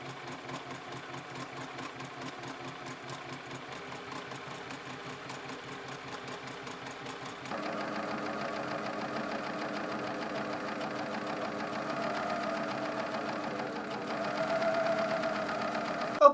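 A sewing machine stitching fabric for a skirt, running steadily with a rapid mechanical whir for the whole stretch, changing pitch partway through, close and clear with no talk.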